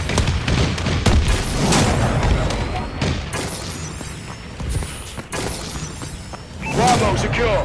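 Explosions and gunfire from a friendly bombing run fill a video game battle with dense, overlapping booms and rattling bursts. The roar stays loud and continuous, and sharper blasts stand out near the start and end.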